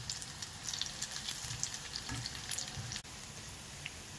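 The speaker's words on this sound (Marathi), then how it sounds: "अशी छान खमंग भजी तळून घ्यायची, उलटी पलटी करायची" Corn pakoda fry in hot oil with a soft, continuous crackling sizzle and faint popping, heard close and alone.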